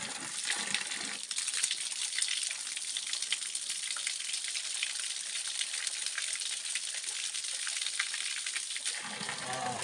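Cold spring water pours steadily from a dhara spout in a Himalayan hill village, a constant bright rushing splash close by, broken only briefly at the start and end.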